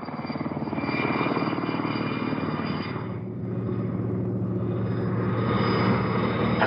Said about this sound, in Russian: Видите вертолет?